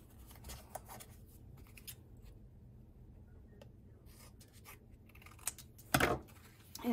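Scissors trim paper for a handmade December Daily scrapbook page: quiet, close snips and brief rustles against a hushed room, with a louder cutting burst near the end.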